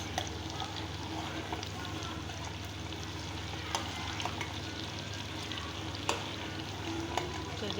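Homemade desi ghee sizzles steadily in a pan over moderate heat, a dense, even frying hiss with scattered sharp crackles and pops throughout, close and alone with no voices.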